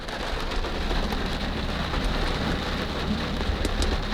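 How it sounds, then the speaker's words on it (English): Heavy rain pours down steadily, drumming on surfaces in a dense, unbroken hiss, with faint thunder rumbling low in the background. "now it's pouring rain"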